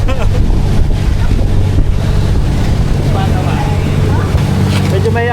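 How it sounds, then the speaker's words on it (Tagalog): Wind buffeting the microphone and water rushing past a moving boat on a choppy sea trip, a loud, continuous wash with engine rumble underneath, while people talk over it. "Medyo may alon din."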